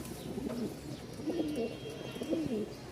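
A young male Damachi pigeon coos in a repeated rhythmic pattern, three soft rolling calls at steady intervals, fairly close, over faint background noise.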